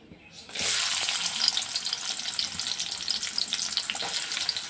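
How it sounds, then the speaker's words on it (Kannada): Chopped onions drop into hot oil heated in a pan on a gas stove, setting off a sudden loud, steady sizzle that holds evenly after a quiet moment at the start, with no talking. "ಈಗ ಎಣ್ಣೆ ಕಾಯ್ದೈತಿ ಇದಕ್ಕೆ ಇವಾಗ ಉಳ್ಳಾಗಡ್ಡಿ ಹಾಕೋತೀನಿ ರೀ"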